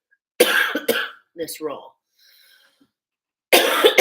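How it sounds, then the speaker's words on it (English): A person coughs twice sharply, then speaks a few words and coughs again in a quick burst near the end, with a short faint noise between, all close and clear. "as I'm coughing"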